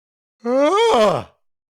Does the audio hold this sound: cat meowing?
no